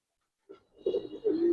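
A young red female pigeon gives a few soft, low coos, short and close, the last one drawn out slightly longer, with no talking over them.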